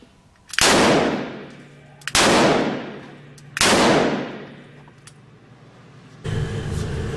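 A Ruger Redhawk revolver chambered for .45 Colt and .45 Auto fires heavy-loaded rounds as three loud, close booms about a second and a half apart, each ringing out into a long echo.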